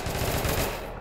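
A Joker Carbine in the online shooter APB Reloaded fires a rapid, loud burst of automatic gunfire lasting about a second before trailing off.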